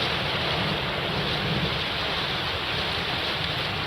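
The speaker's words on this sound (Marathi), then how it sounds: "आज सकाळपासून देखील पावसाची रिमझिम सकाळपासून सुरू आहे" Steady, dense hiss of pre-monsoon rain falling continuously in Ratnagiri, Konkan, with no voices and an even loudness throughout.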